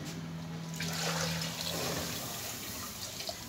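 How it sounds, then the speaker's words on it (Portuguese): Water runs steadily into a cooking pot for potatoes and fish, a continuous close gushing pour with no talk. "Coloquei água ali, agora eu vou pôr pra cozinhar."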